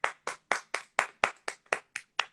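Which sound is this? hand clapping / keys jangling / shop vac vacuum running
hand clapping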